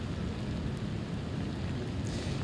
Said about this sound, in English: Charleston right now is getting a lot of rain.